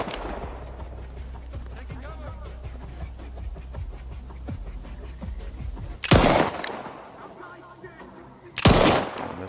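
Gunfire during a firefight in the video game Stalker 2 against armored ward soldiers: two loud, sharp shots a few seconds apart, each with a ringing tail, over a steady low ambient rumble.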